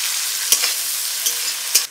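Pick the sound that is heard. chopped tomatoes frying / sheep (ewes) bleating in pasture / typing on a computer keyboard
chopped tomatoes frying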